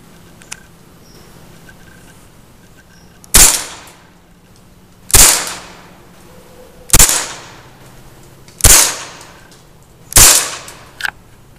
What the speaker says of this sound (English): this is my 1911 airsoft gun, whatnot, and I'll be shooting it for you today.